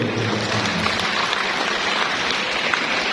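A hall audience at a Sulawesi Selatan regional religious affairs office event applauds in a continuous, dense wash of clapping that holds at an even level throughout, with no voices over it.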